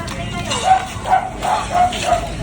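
Several short yips and barks from dogs at moderate distance, sounding in a loose rhythm under ongoing talk and background noise.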